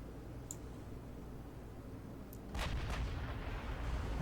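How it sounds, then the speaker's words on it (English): Naval gunfire from 14-inch guns in the Ultimate Admiral Dreadnoughts warship game: a low, steady rumbling backdrop broken by a heavier boom swelling in midway, with sharp distant cracks layered over the roar. "So the fire begins at max range. Those look like an interesting arrangement of 14-inch guns."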